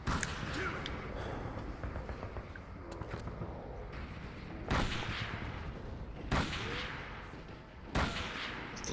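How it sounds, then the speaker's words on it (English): Enemies fire guns at the player in the Call of Cthulhu: Dark Corners of the Earth game, with several sharp, loud shots spaced a second or two apart over a noisy background and faint talk. "They're just taking shots at me?"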